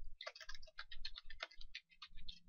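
Quick, light keystrokes on a computer keyboard, an irregular run of soft clicks close by, quiet and uninterrupted by talk.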